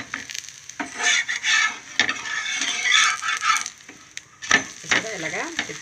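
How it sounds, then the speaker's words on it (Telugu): Dosa batter fries on a hot pan with a soft sizzle, broken by scraping and clinks of a utensil at irregular intervals, close by and with no talk. "ఇంకొక దోశ వేసుకున్నాను అనమాట"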